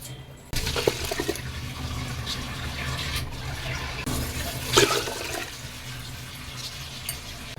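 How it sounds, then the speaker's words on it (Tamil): Water is poured onto soaked rice in a pressure cooker, six tumblers for four of rice, while making tomato rice; a steady, close splashing pour runs throughout with a few louder gushes. "இப்போ 4 டம்ளர் அரிசிக்கு நான் 6 டம்ளர் தண்ணி ஊற்றிக்கிறேங்க."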